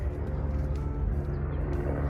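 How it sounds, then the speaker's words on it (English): A helicopter rumbles steadily overhead, a low throbbing roar with no other sounds. "sometimes we get that helicopter flying over."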